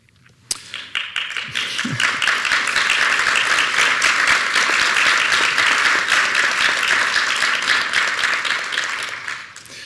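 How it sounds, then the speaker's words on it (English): Sustained applause from an audience at a presidential inauguration ceremony, rising after a sharp crack near the start and holding steady and dense for several seconds before tapering slightly. "that applause is perfectly timed, I gotta tell you."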